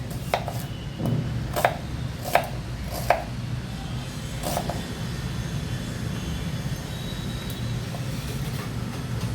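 An onion is chopped on a board with a knife in a home kitchen: about eight sharp, separate knife strikes come in the first five seconds, fairly close, over a steady low background hum with no talking.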